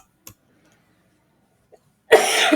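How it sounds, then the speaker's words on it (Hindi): One sharp, loud cough from a lecturer bursts out after near silence. A couple of tiny faint clicks come just before it. "मेरी तबीयत थोड़ी खराब हो रही है, खांसी हो रही है बहुत ज्यादा।"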